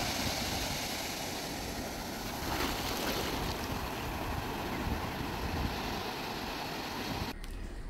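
Ocean waves on the Konkan coast at Devgad, a continuous broad roar of surf and wind-blown water that stays loud and steady throughout, with no voices.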